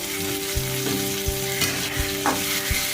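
Finely chopped onion with slit green chillies fries in oil in a pan for Bombay sagu, a steady close sizzle broken by a few sharp clicks and scrapes of a spoon stirring.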